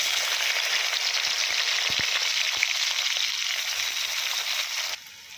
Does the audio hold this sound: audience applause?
no